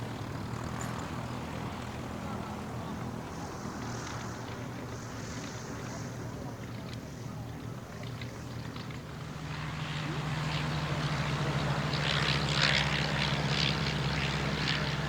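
A Miles aircraft takes off at an evening air display at Shuttleworth, its propeller engine droning steadily in the distance and then swelling louder and rougher as it builds power, with wind noise underneath.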